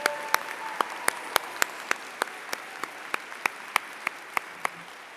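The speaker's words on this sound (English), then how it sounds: "Let's give another round of applause for our speakers." Applause after speakers at a college convocation ceremony, heard as a sparse string of sharp, separate claps spaced roughly a third of a second apart. The claps are moderately loud against quiet room ambience, with no talk.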